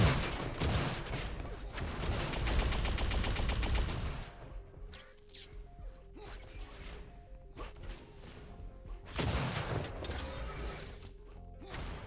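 Sniper rifle shots and flak cannon blasts in an Unreal Tournament match, a dense loud barrage of gunfire for several seconds, then scattered sharp shots and impacts over game sounds.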